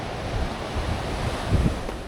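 Sea waves washing on the Irish coast beside a village, a close, continuous rushing surf with wind buffeting the microphone and a slightly louder swell near the end.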